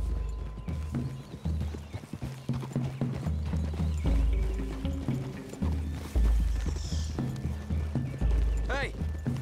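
Hooves clip-clop at a steady trot, with a horse whinnying and snorting nearby; a low rumble sits underneath and no one speaks.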